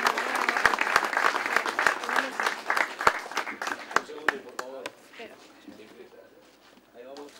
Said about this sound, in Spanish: Ahí está el aplauso para el campeón categoría infantil, Luis Torres